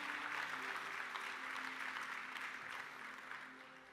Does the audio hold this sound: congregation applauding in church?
yes